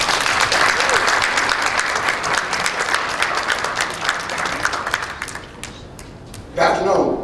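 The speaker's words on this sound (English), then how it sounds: "Ladies and gentlemen, please put your hands together for Mr." A lecture audience at a 2016 fall address greets the speaker with loud, sustained clapping that slowly thins out, while a voice speaks over the applause near the end.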